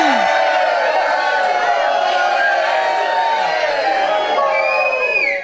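A loud crowd cheers and whoops continuously, voices rising together in a sustained roar.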